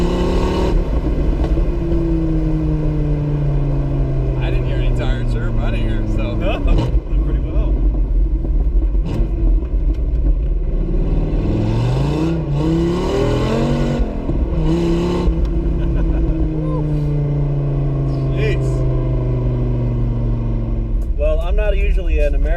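A car engine revs hard in low gear, pitch climbing steadily in repeated pulls, loud and close, with voices talking over it.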